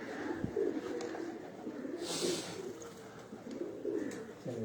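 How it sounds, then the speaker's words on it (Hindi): Wild pigeons coo with soft, repeated throaty calls at a moderate distance, mixed with some rustling and a brief burst of flapping. "ये कबूतर अगर आप देखें तो ये कुछ जंगली कबूतर हैं, ये जा रहे हैं।"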